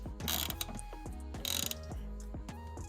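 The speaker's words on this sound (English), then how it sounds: "into your ratchet wrench, put it in there. And now let's get this guy bolted in" Ratchet wrench clicking as it tightens a Torx bolt inside a BMW E92 328 interior, a fast run of sharp, close pawl ticks that comes in repeated bursts.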